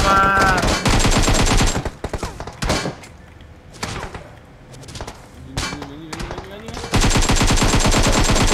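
Rapid automatic gunfire in a shooter video game, with loud sustained bursts at the start and end around quieter single shots, thuds and a rising whine in the middle.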